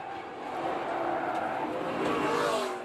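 NASCAR Camping World Truck Series trucks race at Eldora Speedway on a restart, a continuous roar of engines swelling slightly as they pass, with a race commentator talking over it.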